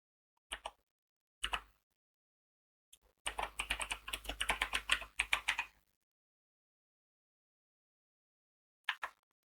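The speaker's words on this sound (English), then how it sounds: "We can change its name and ID by simply typing." Typing on a computer keyboard while entering a name and ID in Primavera project software: brief clicks, a longer burst of rapid keystrokes in the middle, then a final short cluster, close and quiet against silence.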